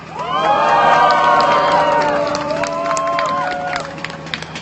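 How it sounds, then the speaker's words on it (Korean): An outdoor crowd at a protest culture event cheers and shouts, with high whoops and voices rising over clapping, loud at first and then easing off. "이상엽 동호에게 박수 한번 보내주십시오"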